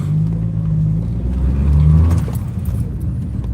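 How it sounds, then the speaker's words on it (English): A small car engine rumbles and revs up briefly, the tone rising as it accelerates, close by with no talking. "This thing is a zippy little car."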